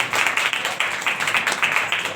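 A church congregation claps to welcome guests at a worship service, a brisk run of rhythmic hand claps, fairly close and even, with no voices over it.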